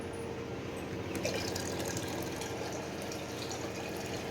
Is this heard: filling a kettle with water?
yes